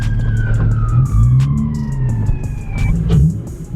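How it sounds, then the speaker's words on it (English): Police car sirens wailing as cops arrive at a night car meet, loud and close with sweeping up-and-down tones over idling engines and crowd noise. "Oh, it's the sirens. The cops are here."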